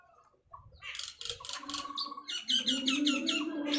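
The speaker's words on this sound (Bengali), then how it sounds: "বাইরে কিন্তু অনেক পাখির আওয়াজ আসছে" Birds chirp outdoors around a rooftop, with repeated quick tweets rising in bursts that grow busier and louder toward the end, close and clear with no talk.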